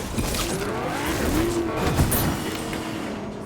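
A Whiplash car on upgraded tires in Fortnite drives with a continuous engine roar that rises and falls, with some tire-on-surface noise, close and fairly loud, no talking.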